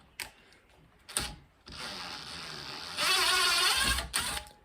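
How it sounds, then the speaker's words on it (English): An impact driver loosens a plumbing nut held with a spanner during removal of a compression olive, giving loud rattling hammering bursts of a few seconds each, close by, with no talk. "put the impact driver on"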